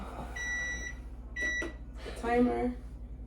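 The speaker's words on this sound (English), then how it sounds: "The timer is going off." Several high electronic beeps in short bursts from a kitchen timer while candied yams cook, with a brief murmur of voice near the end.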